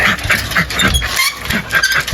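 Dogs in a yard bark and stir amid loud, dense outdoor noise, with short bursts repeating over a couple of seconds close to the microphone.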